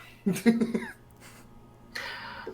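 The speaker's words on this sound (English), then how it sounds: "cough in your sleeve, not your hands" A single close cough, a short burst of a few harsh bursts, followed by a quieter breathy exhale.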